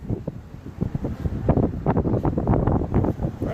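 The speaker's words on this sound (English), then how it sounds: "probably all you hear is wind blowing really hard" Strong wind buffets the microphone outdoors at Hoover Dam, a loud, continuous rumbling roar with gusting surges that fills the whole stretch.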